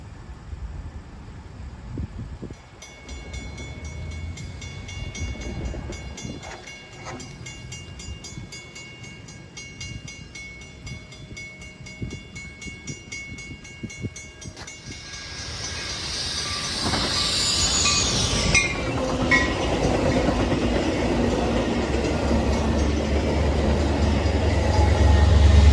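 A Metra commuter train passing through Bartlett, Illinois: a steady approaching rail rumble with a tonal horn-like whine early on, swelling into a loud, broadband roar and wheel noise as the cars sweep close by near the end.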